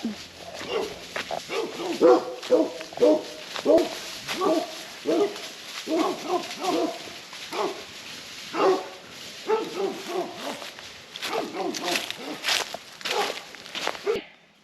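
Several dogs bark repeatedly outdoors in a yard, a busy run of close, loud barks in uneven bursts with a few faint sounds like footsteps.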